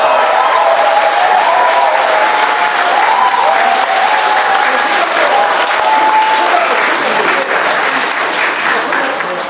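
Loud sustained applause from a big crowd of residents at a redevelopment briefing's cake-cutting, dense continuous clapping with faint cheering voices mixed in, steady until a slight fade at the end.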